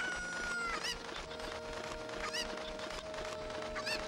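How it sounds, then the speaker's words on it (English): A cucco chicken from the video game The Legend of Zelda: Ocarina of Time clucks in a few short, bright bursts over steady, layered game music, with no talking. "First, we're gonna grab this chicken."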